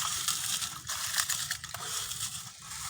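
Fried dried chillies are ground by hand in a village kitchen, a close, gritty crushing and scraping with rough repeated strokes, heard alone without talk.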